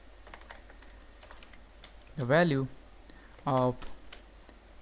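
Computer keyboard typing while C code is written, light clicking taps running through the clip beneath two short bursts of a man's speech.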